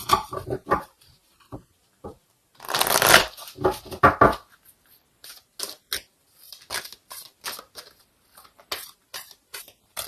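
Oracle cards are shuffled by hand, heard up close as soft riffling flutters and a longer papery burst, followed by a scattered series of light taps and slides, with no voices.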